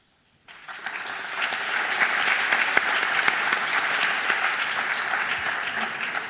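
Audience applause at a high school college panel night for visiting college representatives, a sustained wash of clapping from a full room that starts abruptly after a brief silence and holds steady.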